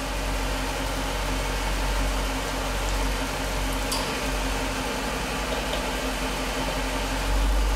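A 2015 Jeep SRT engine converted to Prins VSI 2.0 LPG autogas idles steadily, a constant low hum with a faint mechanical drone and no talk over it.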